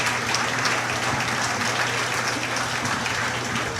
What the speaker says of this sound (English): So give him a nice round of applause, please.